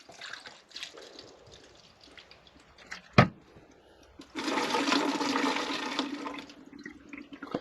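WD-40 pours into a homemade deep penetrating rust killer, a close, steady liquid gush lasting about three seconds after some quieter handling noises and a sharp knock.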